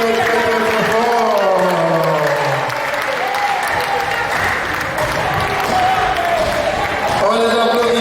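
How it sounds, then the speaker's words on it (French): Audience applauding at an Octobre Rose cultural event at the Centre d'action culturelle d'Abobo: a dense, sustained wash of many hands clapping in a hall, steady and loud throughout, with voices and tones running underneath. "On les applaudit très fort."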